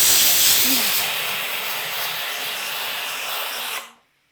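Steam hisses hard and loud from a pressure cooker for nearly four seconds, then cuts off abruptly into silence.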